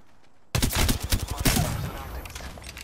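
Rapid automatic gunfire in Apex Legends erupts suddenly after a short quiet stretch, a loud dense burst of shots that rings out and then tails off.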